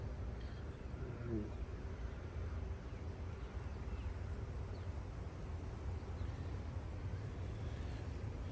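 Bees hum faintly around an apiary hive while a jar is filled for them, a soft steady drone under broad outdoor noise with no talk.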